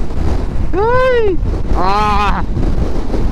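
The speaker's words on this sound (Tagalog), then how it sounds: "Nasa ibabaw ko ng tulay, ang lakas ng hangin dito." Strong typhoon wind gusting on top of a bridge, a steady loud roar buffeting the microphone, with a person's exclamation and a short voiced cry rising over it.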